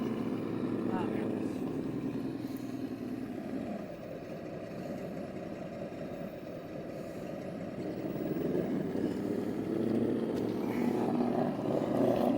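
Traxxas TRX6 RC scale crawler electric motor accelerating, heard as a continuous, fairly loud mechanical whir that holds steady before swelling again toward the end.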